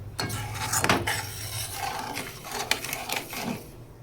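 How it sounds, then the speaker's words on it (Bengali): A spoon stirring a milk, nut and sugar mixture in a pan, scraping and clinking against the metal in irregular strokes, close and moderately quiet, with a low steady hum underneath. "তো চিনিটা দেওয়ার পরে আমি কিন্তু এখানে অনবরত নাড়তে থাকবো।"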